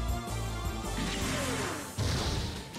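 Beam rifle attack in the mecha video game MS Saga: A New Dawn, a loud sustained electronic blast with a sweeping energy tone, a sharp crash-like impact near the start and a second surge of impact about two seconds in.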